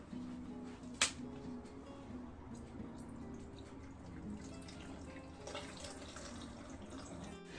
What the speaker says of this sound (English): And finally, we're gonna add some water.